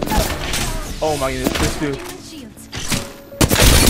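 Enemy gunfire crackles in bursts in a shooter video game, sharp volleys and thumps over a loud, busy soundscape while a player talks excitedly.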